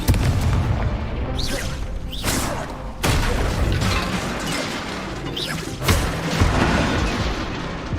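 Repeated heavy spell blasts from Confringo in the Hogwarts Legacy video game, loud booming explosions arriving in bursts about every second or two, each with a crashing, rumbling tail over continuous battle noise.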